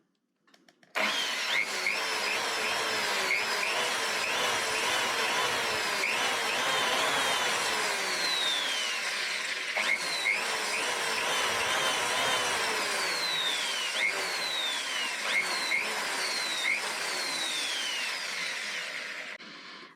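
A power drill grinds out stubborn screws on a WD hard drive at home, a loud continuous whine with repeated rising pitch sweeps and catches as the bit bites, running steadily for nearly the whole stretch.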